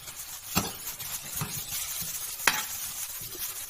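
Ginger and garlic stir-fried together in a pan for spicy Thai roasted chili paste, a low steady sizzle with a few sharp clacks of the spatula scraping the pan.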